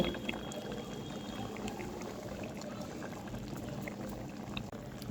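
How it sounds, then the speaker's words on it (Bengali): A fish curry with new potatoes, tomato and pumpkin bori simmers under a lid, a steady muffled bubbling that runs evenly throughout with no voices. "এখন ঢাকনা দিয়ে বেশ কিছুক্ষণ রান্না করে নেব তরকারিটা"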